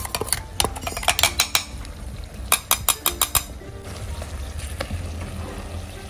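Mangalore-style pork roast sizzling in a pan as chopped masala is stirred in, with a steady fry under a run of quick metallic spoon clinks and scrapes against the pan.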